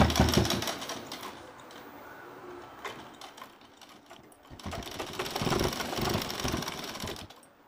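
A sewing machine stitching a straight seam on a pillow cover, close and steady, its rapid mechanical chatter running in bursts with short pauses.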